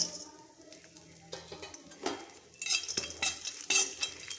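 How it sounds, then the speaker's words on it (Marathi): Cashews, almonds and raisins roasting in a spoonful of ghee, a light sizzle broken by repeated spoon scrapes and clinks against the pan as they are stirred. "एक चमचा तूप टाकते त्यामध्ये हे ड्रायफ्रूट्स भाजून घेऊया"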